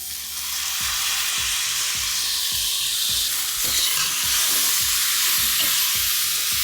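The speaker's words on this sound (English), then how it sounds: "Now add 2 tomatoes that are sliced." Two sliced tomatoes cooking in a pan with gravy for a festive desi chicken roast, giving a close, steady hiss and sizzle with regular soft stirring knocks underneath, and no voices.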